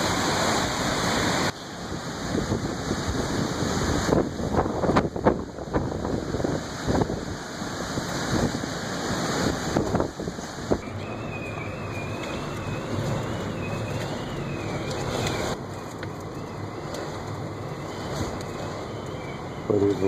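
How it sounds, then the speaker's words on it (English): Strong Hurricane Odile winds in Cabo San Lucas, Mexico, 2014: roaring gusts and rushing air buffet the microphone continuously, loud and close, with occasional bursts and a steady high whine. "We're getting some major wind here now."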